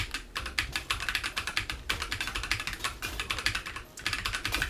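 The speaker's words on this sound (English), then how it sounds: "Sorry for my keyboard. It's probably very annoying." Fast, loud, continuous typing on a close computer keyboard during a gaming session, dense clacking keystrokes with a brief pause near the end.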